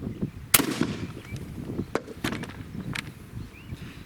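A 9mm gunshot hits an exploding target object, giving a sharp loud crack followed by several fainter pops and bangs scattered across the outdoor scene.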